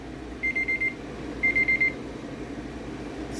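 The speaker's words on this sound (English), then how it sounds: "Oh, looky, there's my timer." A kitchen timer alarm sounds two short bursts of rapid electronic beeps, about four pips each, close and clear over a low steady room hum.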